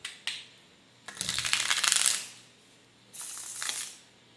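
Tarot cards riffled and bridged in a single hand shuffle, two bursts of crisp papery flutter with small taps before and between them, close and fairly quiet.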